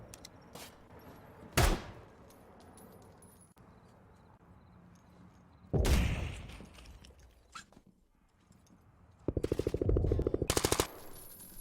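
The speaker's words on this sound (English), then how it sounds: "He sees the gunfire, so he knows that there's trouble there." Sparse gunfire cracks in the video game Zero Hour, a couple of single sharp shots followed by a rapid automatic burst near the end, with quiet stretches between.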